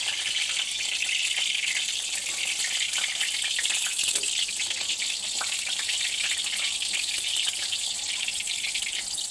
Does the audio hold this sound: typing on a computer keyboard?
no